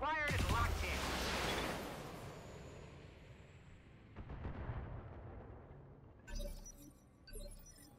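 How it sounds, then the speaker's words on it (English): An AC-5 autocannon fires in the BattleTech mech game, a loud blasting report with a long rumbling decay, followed by a few quieter thuds. "I'll go ahead and fire the AC-5"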